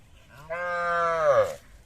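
A single calf gives a drawn-out moo lasting about a second at a cattle market in Tegra, Birol, Dinajpur, fairly close and clear over a quiet background.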